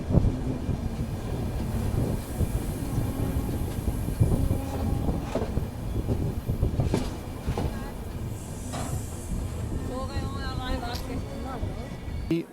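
A Lucknow–Kathgodam Express passenger train pulls into Haldwani railway station, wheels clicking steadily over rail joints beneath a rumbling carriage drone, with brief squeals and a nearby voice speaking now and then.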